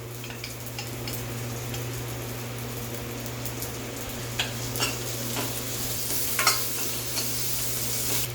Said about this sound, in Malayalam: ഒരു ഗോൾഡൻ ബ്രൗൺ കളർ ആവുന്നത് വരെ വതക്കി കൊടുക്കാം